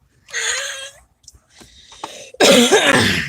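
A person coughs outdoors in a park, a harsh raspy cough burst followed by a few small throat sounds and then a louder, wheezy hacking cough at the end.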